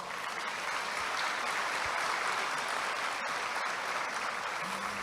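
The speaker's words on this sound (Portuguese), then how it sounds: "Aplauda esse Deus." A church congregation applauds God during a sermon, producing steady, sustained clapping throughout with no break.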